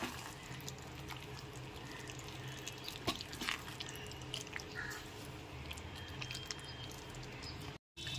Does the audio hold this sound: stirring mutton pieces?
yes